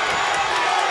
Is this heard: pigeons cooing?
no